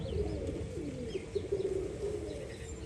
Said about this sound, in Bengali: দেখুন এখানে একটা পায়রা বিটিং করছে